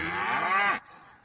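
A cow lets out a single loud, drawn-out moo lasting under a second, close and clear, ending abruptly into quiet.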